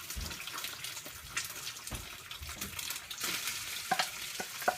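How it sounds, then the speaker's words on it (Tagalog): Fried rice and egg being stirred in a hot pan, with a utensil scraping and clattering irregularly against the metal over a soft sizzle, fairly quiet and close, with no talking. "Ngayon, pag nilagay nyo yung kanin, haluin ito kasama ang itlog."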